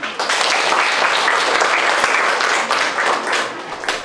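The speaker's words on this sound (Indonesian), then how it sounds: "Tepuk tangan." Applause from a classroom of students during an Indonesian language lesson, a dense steady wash of many hands clapping for about four seconds, loud and close.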